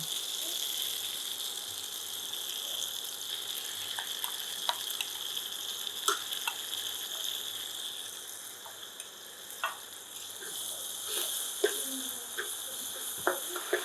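Dried red chili paste sizzles in a hot pan for a Bengali matar dal bora curry, a steady close frying hiss with scattered sharp crackles and occasional stirring clicks throughout.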